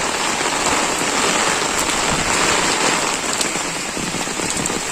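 Heavy, steady rain from a typhoon pours down in Bicol, a dense continuous hiss of drops on surfaces throughout, loud and close with no voices.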